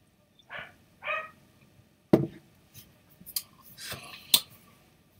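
A dog barks a few times in short, separate yelps at moderate distance, mixed with clicks and handling noises during a live carp fishing stream.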